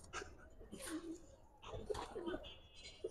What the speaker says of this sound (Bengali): সাভার থেকে আনা কবুতর